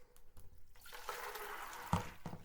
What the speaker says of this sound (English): watch out, we're going to be splashing.